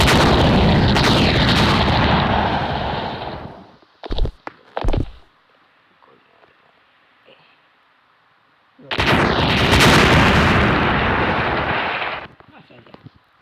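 Firecracker bombs going off in a fireworks game, two long loud crackling roars of explosions separated by a few sharp isolated bangs and a quiet gap.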